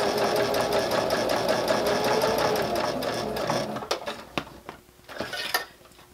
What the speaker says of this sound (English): Now we're at the machine and we're going to start stitching right here at our green clip.